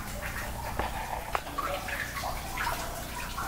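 Water fills a flooded uranium mine adit at Kowary, more than knee-deep, with a continuous close sloshing and swishing and occasional drips echoing in the tunnel.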